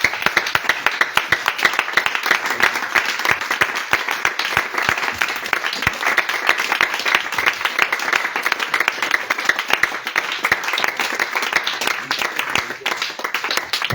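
A congregation at an evening church service in Grand-Bassam applauding, dense sustained clapping from many hands with cheering voices mixed in, loud and continuous throughout.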